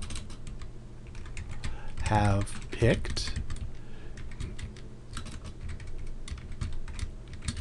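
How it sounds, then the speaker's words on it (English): Rapid keyboard typing clatters throughout, steady clicks of keys with a brief burst of speech partway through. "Typing is not my friend today."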